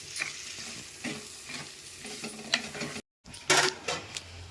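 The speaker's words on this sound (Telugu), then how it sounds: "ఈ ఆయిల్లో కాస్త ఫ్రై చేసుకోవాలి" Onions fry in hot oil in a pan, hissing and crackling while a utensil stirs and scrapes against the metal. The sizzle briefly cuts out and then returns louder, with no talking.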